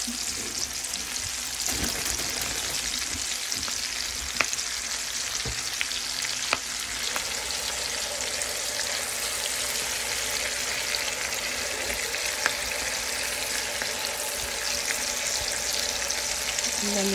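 Vegetables sautéing in a pan with spinach added for a breakfast egg casserole, steady close sizzle and frying crackle with occasional clinks and stirs throughout.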